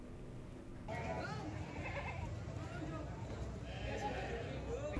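Goats bleat repeatedly amid a busy livestock market crowd at the Ajibarang animal market in Banyumas, where a roadside goat salon trims horns and hooves, with people talking throughout.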